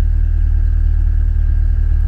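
A 2022 Corvette C8 convertible idles steadily nearby, a low, even engine rumble with a faint whine held constant and no revving.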